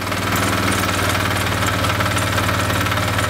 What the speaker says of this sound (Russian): Дергаю за шнур ручного стартера и отпускаю декомпрессор.